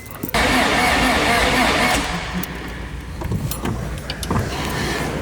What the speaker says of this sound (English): I've got my jump pack hooked up to the battery. Let's keep cranking it.